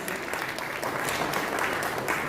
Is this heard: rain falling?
no